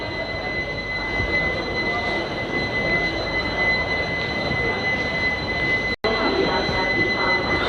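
The Pune–Amravati Express pulls out of Daund Junction, heard from on board an ICF coach as a loud, steady rumble of wheels on rail with a persistent high squeal and a brief dropout near the end.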